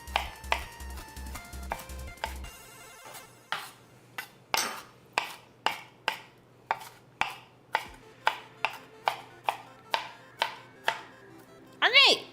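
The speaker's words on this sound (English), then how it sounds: "I am going to mince it just a little bit more, just in case" A knife mincing onion on a cutting board gives a steady run of crisp, close chops, about two per second, with a brief rhythmic thumping at the start and no talking.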